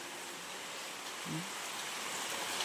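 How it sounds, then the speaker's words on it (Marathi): Steady rain falling outdoors, a soft continuous hiss at even level throughout, with a brief faint low sound partway through. "हा बघा काय हा पाऊस पडतोय बघा"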